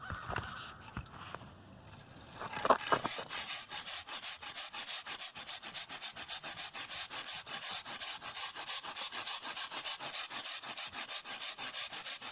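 Stiff brush scrubbing Bio Dry asphalt-blend absorbent into a fluid spill on asphalt, a steady rhythmic rasping scrape close by after a few scattered bumps, continuing evenly without talk.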